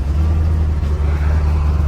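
A 1969 Chevelle with a Magnusson-supercharged 427 LSX V8, driven on the road in Mexico, gives a steady, deep engine rumble heard close and loud throughout.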